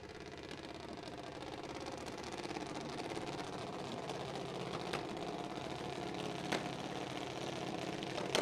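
A junior dragster engine on a quarter-mile drag strip runs with a steady buzzing, rattling drone, held at a fairly constant pitch throughout with a few sharp clicks, moderately distant.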